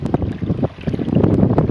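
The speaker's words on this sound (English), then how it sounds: "But it's windy. It is windy." Wind blowing hard by a beach at Miller Lake, a loud gusty rush buffeting the microphone in uneven surges, with no talk.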